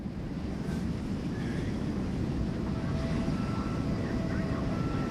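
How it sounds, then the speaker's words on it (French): Airliner lifting off and climbing, heard from inside the cabin as a loud, steady roar of engines and rushing air, continuous and close throughout. "L'avion ne touche plus le sol."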